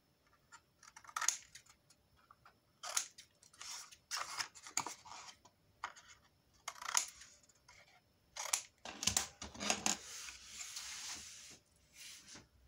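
Scissors cutting paper strips for a square album structure, a series of short crisp snips and rustles, close and fairly quiet, with brief pauses between cuts.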